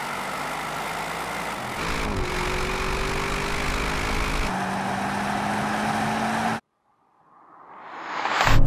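Audi RS7, BMW M8 and Mercedes-AMG GT63 drag racing: a loud, steady engine roar with rising gear pulls runs for several seconds, breaks off into silence, then a fresh roar swells in as a car approaches.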